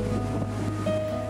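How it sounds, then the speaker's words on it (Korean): Strong ocean waves surge against the rocky shore at Yeonggeumjeong in Sokcho, a loud continuous rushing roar mixed with wind buffeting, with no clear separate breaks. "파도가 더 강하게 몰아치는 것 같았고 소리도 웅장합니다"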